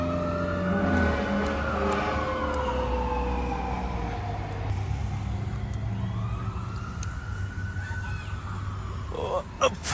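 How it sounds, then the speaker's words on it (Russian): A Beverly Hills Fire Department fire engine's siren wails in long rising and falling sweeps, moderately distant, over steady traffic rumble, with people talking over it. "Пожарная машина."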